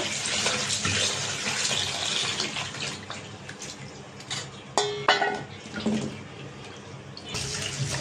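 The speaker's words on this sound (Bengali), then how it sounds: "আলুটা ধুয়ে নেব।" Potatoes being rinsed under a running kitchen tap, a steady close splash of water with brief knocks and clatters of the potatoes and a bowl near the middle, no talking.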